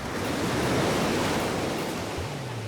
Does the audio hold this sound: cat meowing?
no